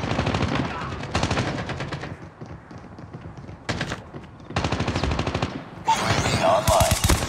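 Call of Duty Mobile Domination match on a firing range map, with rapid assault rifle bursts in repeated volleys. Loud automatic fire comes in several bursts separated by short quieter gaps.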